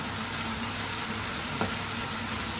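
Kangkong leaves being sautéed in a hot pan for adobong kangkong, a steady broadband sizzle throughout with one brief stir or clink near the middle; no talking.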